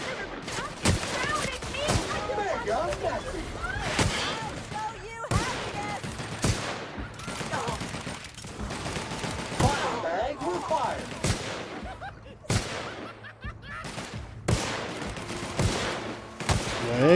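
Gunfire in the video game The Outer Worlds, sharp loud shots fired in irregular bursts across a busy firefight, with game effects and someone talking over the action.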